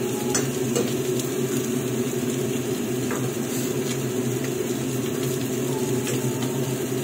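Noodles with vegetables and chicken powder cook in a pan, a constant close sizzle and bubbling broken by soft scraping and stirring strokes, with no talking.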